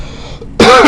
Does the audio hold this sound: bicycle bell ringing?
no